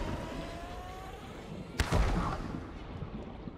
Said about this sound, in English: Whoa, that's one of those exploding fish.